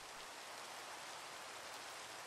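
Steady rain pours in the Minecraft game world, a dense, even hiss with no breaks or voices across the short stretch.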